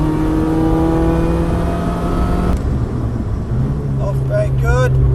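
A track car at full throttle at Cadwell Park, its engine droning loud and steady, then shifting up and climbing again in pitch, with a voice briefly over it.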